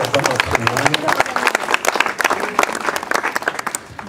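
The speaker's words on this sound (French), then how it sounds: "vous pouvez applaudir le Lila" A crowd at a Bastille Day reception held by the French Consul General in Los Angeles claps steadily throughout, a dense, sustained applause with voices mixed in.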